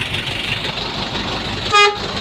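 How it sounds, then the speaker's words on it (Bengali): A steady low engine rumble drones aboard the Pankhali ferry with a car on deck, and a brief loud horn toot cuts through near the end. "আমরা ফেরিতে গাড়ি নিয়ে উঠলাম। আমরা এখন বর্তমানে ফেরির উপরে আছি।"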